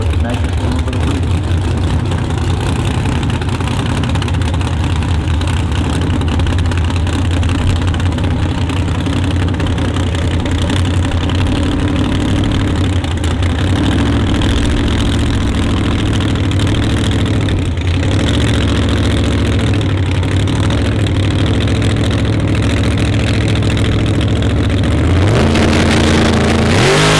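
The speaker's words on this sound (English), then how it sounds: "big block Chevrolet with a whole bunch of nitrous stuff into it." A big block Chevrolet drag car engine fitted with nitrous idles with a deep, loud rumble and revs, under continuous commentary at a heads-up drag racing event at a motorsports park.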